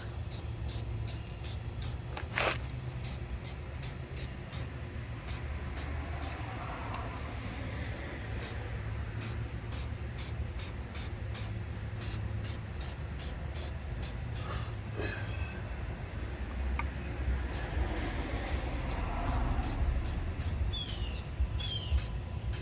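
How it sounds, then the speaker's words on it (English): Spray paint laid lightly over Chrysler exhaust tips: a continuous hiss of aerosol mist running close throughout, with faint rattly clicks scattered through it and no speech. "Light sprays over the whole thing."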